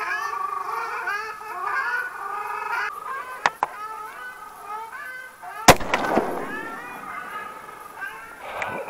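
One sharp, loud shotgun blast cracks out while duck hunting, after a stretch of honking waterfowl calls, with scattered bird calls continuing as the shot's echo dies away.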